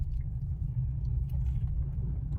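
A car in first gear during a driving lesson gives off a steady low engine rumble. The sound is continuous and fairly loud, with no voice over it.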